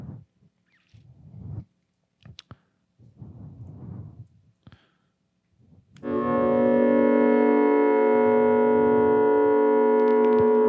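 A kite guitar rings out with the reverb turned up, a sustained harmonic tone that blooms and hangs after a few seconds of quiet shuffling and clicks.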